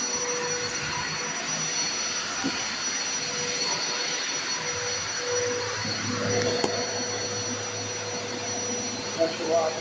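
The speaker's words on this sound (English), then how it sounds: "Pressure washer." A pressure washer rinsing a car's front bumper after a bug-removal solution makes a steady, loud spray hiss over a constant mechanical whine, with a brief sharp tick partway through.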